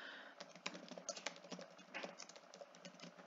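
Fingers type Python code on a computer keyboard in a quick, irregular run of close, light key clicks, steady throughout with no talking.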